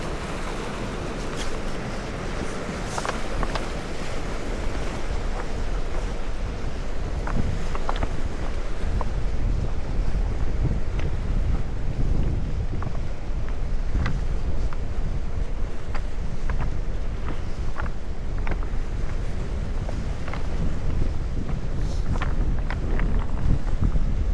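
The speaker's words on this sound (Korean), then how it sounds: "맑은 바다와 파도 소리를 들으면 완벽합니다." Waves wash and churn continuously against a rocky shore on Jeju Island, a dense roar mixed with gusty wind buffeting the microphone.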